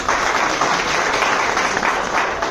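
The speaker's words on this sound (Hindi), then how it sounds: "जोरदार ताली हो जाए।" An audience claps in a dense, steady burst of applause that holds at the same level throughout, with no talking over it.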